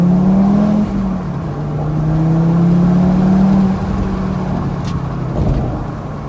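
A high-mileage Audi TT RS 8J with a six-speed manual gearbox accelerates, its engine drone climbing in pitch through two pulls with a shift between them, then easing off; loud and close, with no talking.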